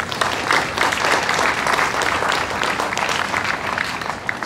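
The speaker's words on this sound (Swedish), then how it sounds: "En applåd." Warm applause from an audience at the opening of a textile and fashion center in Borås, many hands clapping in a dense, steady patter for a few seconds.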